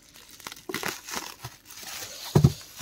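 Thin plastic protective wrap crinkling and tearing as it is pulled off a boxed anime figurine, close-up rustles building to a louder crunch near the end, with no talking.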